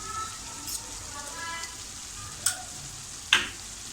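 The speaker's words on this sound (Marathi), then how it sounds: "आता आपण यात 2 चमचे आलं लसूणची पेस्ट टाकूया" Ginger garlic paste frying in a pan for dhaba-style chicken lapeta, a faint steady sizzle with a few sharp clinks and spatula scrapes, no one talking.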